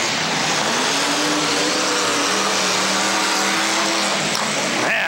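Several race cars driven hard into the first turn at a dirt track championship night, engines roaring loud and continuous with overlapping revving tones, a crowd-like wash of noise beneath and no talking.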